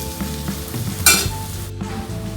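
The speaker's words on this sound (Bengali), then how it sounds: "পেঁয়াজ এরকম ভাজা হয়েছে," Onions frying in a pan for a meal of chepa shutki dried fish, a steady close sizzle with light stirring scrapes and a brief louder burst partway through, no voices.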